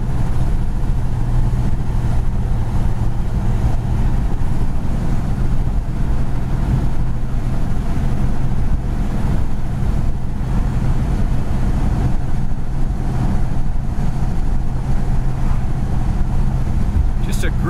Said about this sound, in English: Just a great driving 1970 Super B.